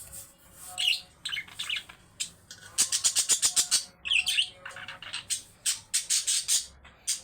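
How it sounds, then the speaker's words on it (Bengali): Pet birds in a home birdcage chirping and squawking in bursts, rapid runs of sharp close tweets with brief pauses between calls. "হ্যাঁ, পাখি ডাকে।"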